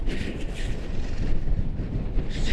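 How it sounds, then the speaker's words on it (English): Strong winter wind on the Oregon Coast Trail buffets the microphone in loud, rumbling gusts that swell and ease, close and continuous with no voices. "gusting pretty good out here"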